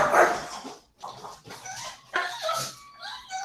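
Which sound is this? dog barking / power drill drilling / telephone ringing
dog barking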